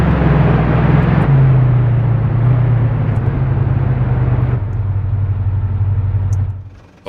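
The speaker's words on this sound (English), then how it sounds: "Let's get in the vehicle and we can drive around with it." Steady low engine rumble from an armed vehicle with a mounted machine gun driving in Arma 3, loud and close, shifting pitch once as it changes speed before fading out at the end.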